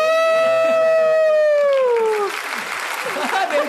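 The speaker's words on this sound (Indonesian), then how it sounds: "Tepuk tangannya." A crowd at a charity running event applauds, a dense patter of clapping rising after a long, high, falling cheer-like cry, with voices mixed in.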